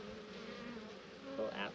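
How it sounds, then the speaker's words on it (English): A dense, steady hum of many honeybees buzzing close by while a package of bees is installed in a hive, a continuous drone that swells slightly near the end. "Oh, there's a million bees around it."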